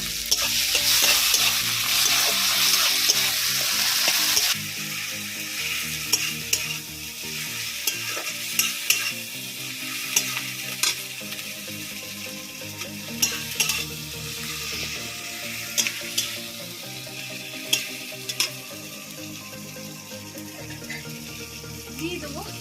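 Chopped tomatoes with a pinch of salt fry and sizzle loudly in a pan for a village-style rohu fish curry with potato and pointed gourd, the hiss softening after a few seconds while a spoon scrapes and stirs in irregular knocks.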